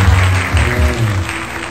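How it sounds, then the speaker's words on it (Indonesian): A group of Indonesian middle school students claps together at a student leadership training evening, loud and close, with a low hum and murmuring voices beneath the clapping. "Oke, luar biasa, tepuk tangan semuanya."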